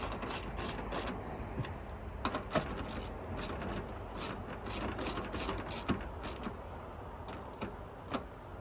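A ratchet tightens the last two 10mm bolts on an intake part of a Toyota Sienna during a thermostat replacement, giving quiet, steady clicking that repeats throughout.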